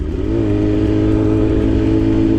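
A steady, loud engine drone holds a constant pitch throughout, close and continuous, with no voices.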